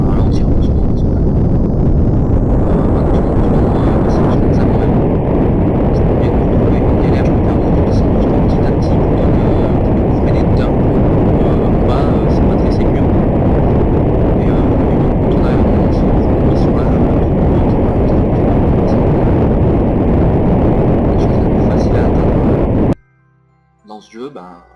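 Rocket engines in Kerbal Space Program fire continuously for braking, a loud, steady broadband roar lasting over twenty seconds before cutting off abruptly, with someone talking over it.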